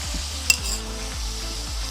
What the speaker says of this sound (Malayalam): ഒരു രണ്ട് മൂന്ന് കരിയാപ്പില ഇട്ട് വെക്കാം